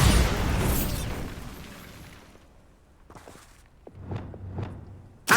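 Bombarda spell blast in Hogwarts Legacy: a loud, broad rumbling explosion that slowly fades, followed by quieter crackling debris, a few soft magical chimes and a sharp burst at the end.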